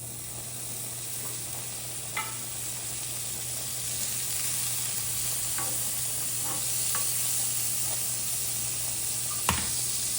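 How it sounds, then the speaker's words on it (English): Butter sizzles steadily on a hot griddle before Italian sausages go on, a constant close hiss with a faint low hum and a few light utensil clicks scattered through. "Turn on the griddle, add some butter."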